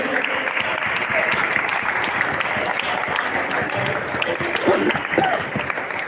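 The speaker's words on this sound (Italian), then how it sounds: "Un grande applauso al presidente del comitato Alto Adige, Cristian Tomei." An audience at an award ceremony applauds steadily, a dense wash of close and distant clapping that carries on without a break, with a few voices mixed in.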